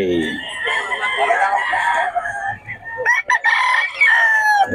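A Golden Boy Sweater gamefowl rooster crows loudly and close, with two drawn-out crowing calls, the second following a brief break and a few sharp clucks.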